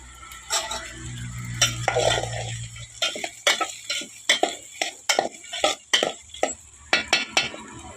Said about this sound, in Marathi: वाटाणा सगळ्या भाज्या हलवून घ्यायच्या